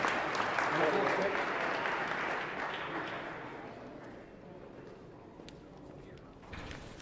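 Audience at a Roberto Clemente commemoration applauding art contest winners, a broad clapping wash that starts full and gradually fades, with a voice briefly near the end.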